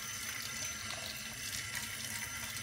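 Warm water runs steadily into rice as it is washed for the Iranian stew ghormeh sabzi, a soft, even splashing and trickling stream, faint and unbroken with no voices.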